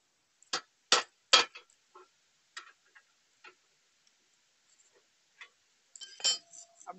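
A bolt is slid into a motorcycle silencer fitted with a rubber piece, giving a handful of sharp, close metallic clinks and ticks spaced irregularly, with a quick cluster of taps near the end.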